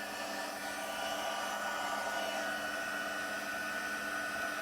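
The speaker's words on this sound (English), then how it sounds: "So I'm going to go ahead and start the heat tool." A heat tool blows a constant airy whoosh, like a small hair dryer, running close and steady while warming puff paint, with no voices.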